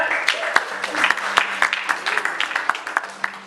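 A church congregation applauding during a worship service, a steady patter of claps with voices mixed in, fairly close and moderately loud throughout.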